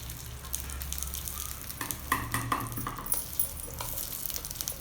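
Small whole onions, shallots, drop into hot oil for a Tamil Nadu–style vegetarian meal, giving a steady close sizzle with scattered crackles and a few stirring clatters throughout, no voices.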